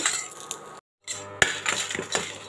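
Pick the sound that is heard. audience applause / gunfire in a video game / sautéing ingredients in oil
sautéing ingredients in oil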